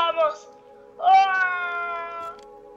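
A cat meows in the video game Stray, two clear, close, drawn-out cries with the second longer and louder, standing alone without talk.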